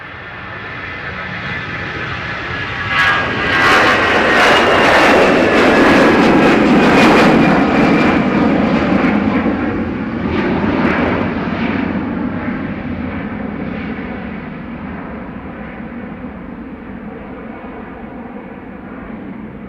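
An Aer Lingus airliner at Dublin Airport roars past, its loud broadband jet noise with a rising whine building over a few seconds, peaking, then slowly fading but lingering in the distance.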